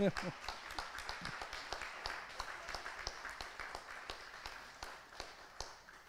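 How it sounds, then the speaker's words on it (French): Audience members applaud the volunteers at a community event, sparse distinct claps in a loose rhythm, fairly faint and distant. "Ouais, on peut les applaudir."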